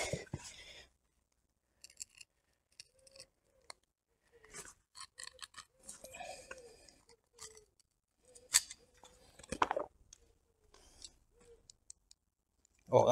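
Scissors snipping a cutout into a car floor mat, a scattered series of close, crisp cuts and clicks with short pauses between them.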